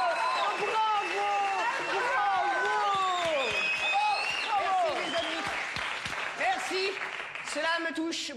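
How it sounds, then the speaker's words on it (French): On a comedy stage, an audience claps loudly and continuously while whooping and cheering voices rise and fall over the applause. "Dès qu'il a fini, vous applaudissez hyper fort"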